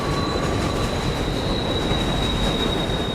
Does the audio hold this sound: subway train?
yes